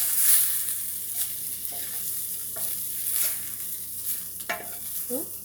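Liver and onions fry in a pan with a steady, moderate sizzle and crackle, broken by a few scraping stirs and light clinks, heard close with no one talking.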